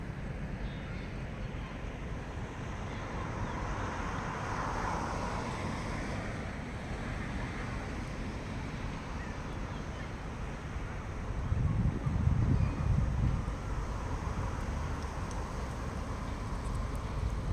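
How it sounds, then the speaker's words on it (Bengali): Strong, cold wind blows steadily outdoors at night at a lit-up spot, a continuous broad rushing roar buffeting the microphone, swelling into a louder gust near the end. "বাতাসটা একটু বেশি ফেলাই দিয়েছে, খুব ঠান্ডা লাগে"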